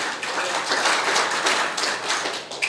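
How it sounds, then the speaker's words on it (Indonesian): A church congregation breaks into applause during an Indonesian sermon, with dense, even clapping from many hands filling the room steadily for under three seconds. "Tepuk tangan buat Tuhan."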